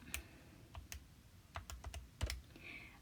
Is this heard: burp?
no